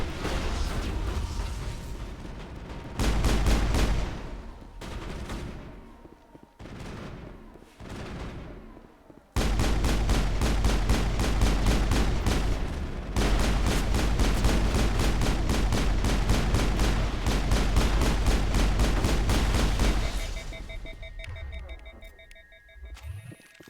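Enemy gunfire in the video game Mass Effect, with rapid sustained bursts of automatic shots, some heavier booming hits, and long dense volleys that stop abruptly and leave ringing electronic tones at the end.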